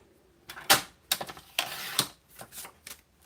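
Paper trimmer slicing cardstock, cutting a 6x6 piece down to 4x6: a few short, sharp rasping strokes with brief pauses, close and fairly loud, with no talking.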